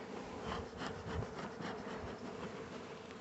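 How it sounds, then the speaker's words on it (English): Bees buzz in a steady, low hum from inside a hive box during a spring check, soft and continuous with faint fluctuations. "Stay in there, bees."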